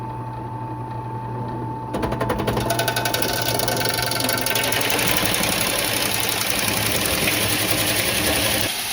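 A belt-driven drill and its electric motor start up and run steadily, a loud close mechanical whir with a rapid rhythmic clatter that holds for several seconds before stopping.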